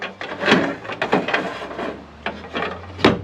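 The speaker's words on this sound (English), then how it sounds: "this is our plate that just slides along" Metal seat mounting plate sliding along its rail on a Sea Jay Nomad 3.5 HS boat, a close, dry scraping and rasping in a few strokes with sharp clicks at the ends.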